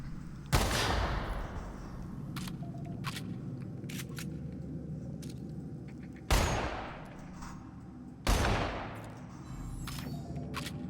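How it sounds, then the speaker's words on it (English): Three loud, sharp shotgun blasts ring out in The Outer Worlds, each followed by a decaying echo, spaced several seconds apart over a busy background of clicks and ambient game noise. "I'll luck out with a shotgun now."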